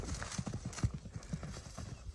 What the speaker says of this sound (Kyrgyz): Жакшы тарбия берип, ат кылып мине турган, ээрчи кылып мине турган аттардын бири экен.